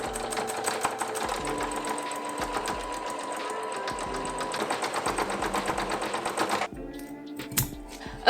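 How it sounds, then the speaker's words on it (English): A sewing machine runs steadily as it stitches around small fabric scraps. The needle chatters fast, close and loud for several seconds, then stops, leaving a few lighter clicks and handling noises. "We are going to sew all around here, and then it will fold."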